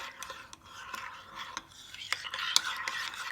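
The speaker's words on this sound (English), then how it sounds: "I'll be adding in 1 spoon of coffee powder, mixing it well" A spoon clinks and scrapes against a cup, stirring coffee powder into lukewarm milk in quick, soft, close strokes with a few sharp taps.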